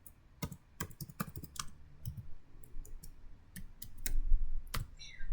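Someone types a command on a computer keyboard, crisp key clicks in irregular bursts and short runs with pauses between, close and clear with no voices.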